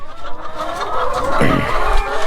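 Chickens cluck close by in a steady, busy stream of short calls, with no one talking.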